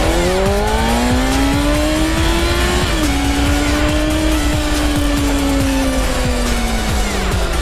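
A 2015 Kawasaki ZX-6R Ninja 636 motorcycle accelerates hard in first gear, its close, loud engine whine climbing steadily in pitch with a brief dip partway through before rising again.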